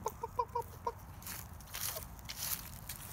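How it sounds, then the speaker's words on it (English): Young Orpington chicken, likely a cockerel, giving a faint, distant series of short clucks and a brief crowing attempt, with no voices over it. "I'm hoping that was a rooster."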